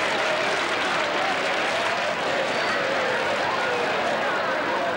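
A football stadium crowd in France roars in a broad, steady wash of cheering and clapping that holds at even loudness throughout, with no clear single voice above it.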